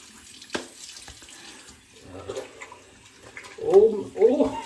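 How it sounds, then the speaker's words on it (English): Water poured out into a sink or basin at a birthday gathering, a short splashing, gurgling burst near the end after quieter room noise. "we'll pour out our bloomin' water, get it going"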